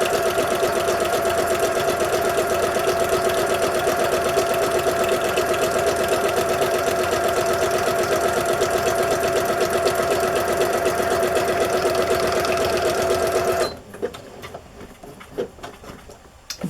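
A sewing machine stitches a row, a loud, rapid, even patter running steadily for about fourteen seconds before stopping, leaving quiet handling noises.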